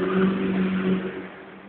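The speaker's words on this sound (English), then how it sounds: "Damn loud ass vehicle there, making noise while I'm trying to make a video." A loud motorcycle passes close outside, a steady engine roar that holds strong and then slowly fades over under two seconds.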